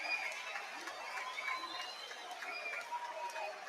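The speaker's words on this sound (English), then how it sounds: "Applause all round" Applause from a football stadium crowd at a Wolves vs Arsenal match as a player walks off waving, a faint, distant roar of clapping and chatter with voices over it.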